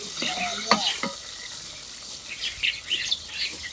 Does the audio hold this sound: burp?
no